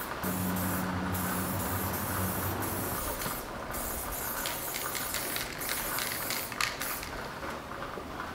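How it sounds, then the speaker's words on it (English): Close, steady hissing of a spray can, broken into a series of sprays with brief pauses and faint clicks between them. "I'm gonna leave you a little spray paint ASMR"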